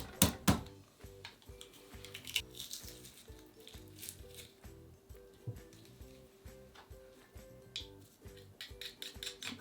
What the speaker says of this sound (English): Next, I'm going to crush the garlic